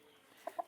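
An albino chicken at a Hung Yen heritage farm gives two quick, faint clucks near the end of a quiet moment.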